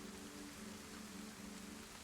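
Steady rain falling in the DayZ video game, a soft continuous hiss of drops on surfaces with no talking, faint and even throughout.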